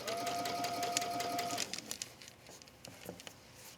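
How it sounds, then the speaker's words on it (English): A domestic sewing machine runs at slow speed stitching a ruffle onto wrap-dress fabric, a steady close mechanical whir for about a second and a half before stopping, followed by faint handling and rustling. "depending on what kind of sewing machine you have, you might have a setting where you can just make it stitch a little bit slower"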